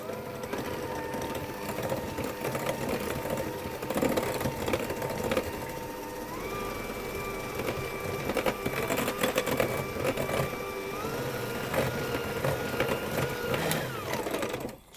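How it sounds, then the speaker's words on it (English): An electric whisk whirs steadily as it beats egg into creamed butter and sugar, a loud, close, continuous motor buzz with rattles and clicks against the bowl that runs unbroken throughout. "I'm going to add my egg in, and that will loosen that mixture up, and I'm going to whisk that until it's combined as well."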